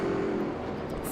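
Orange and blue BMW GT race car in the RaceRoom racing game, a steady engine drone held at constant loudness through an endurance race, with no clear approach or fade.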